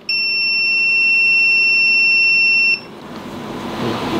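A digital multimeter gives its continuity beep, a loud, steady piercing tone held for almost three seconds before it cuts off abruptly, leaving faint background noise behind.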